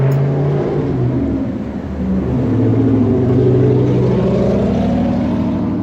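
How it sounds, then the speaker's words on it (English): A Cadillac CTS-V engine revs loudly nearby, a rising, throaty roar that swells and holds steady with strong low rumble throughout. "That's actually not a Mustang, dude. It's a CTSV."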